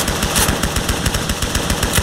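Rapid automatic gunfire in the Roblox game Ace of Spades, a loud, continuous stream of evenly spaced shots cracking close by with no pause and no voices.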